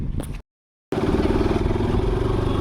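A motorcycle engine idles steadily close by, with a low rhythmic putter after a short break of silence; a faint voice is audible at the start.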